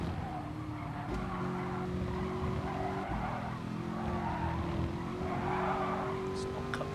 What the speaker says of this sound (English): The tyres are getting away from me.